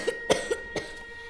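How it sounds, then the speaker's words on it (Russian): A person coughs four times in quick succession, short sharp bursts close to the listener with brief pauses between, no talking. "Вы, голубушка, не кашляйте и болеть не будете."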